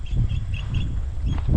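An unidentified bird calls at dusk in Challakere scrubland, a few faint high repeated notes over a low rumbling outdoor background.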